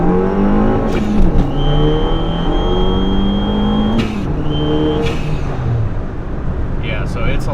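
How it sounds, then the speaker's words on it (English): A modified Fiat 500 Abarth accelerates hard in sport mode with traction control on, the engine note climbing through the gears with clear shifts and revs close and loud inside the cabin. "let's go on a little test drive here and we'll do a pull out in front, see how it translates torque wise"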